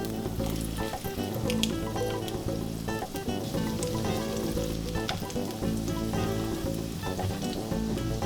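Fritters made from fish fat and flour fry in oil over medium heat, giving a loud, steady, dense sizzle that runs unbroken from start to finish with no talking.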